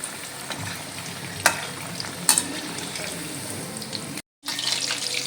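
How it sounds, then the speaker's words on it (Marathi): Chicken 65 pieces deep-frying in oil over a low flame give a steady, close sizzling hiss with a few sharp crackles and pops, cutting out briefly before resuming. "आता आपण गॅस कमी करणार आहोत एक दोन तीन मिनटं आपल्याला कमी गॅसवरती तळून घ्यायचे आहेत"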